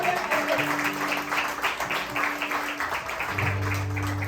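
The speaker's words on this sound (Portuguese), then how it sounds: "louva o Senhor com as palmas em nome de Jesus" Church congregation clapping in praise during a worship service, a steady wash of many hands under sustained organ or keyboard tones, with a low bass note entering near the end.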